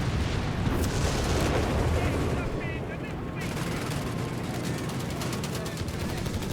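Heavy automatic gunfire crackles continuously through a Company of Heroes 3 battle, dense rapid bursts mixed with booming explosions, loud and unbroken from start to finish.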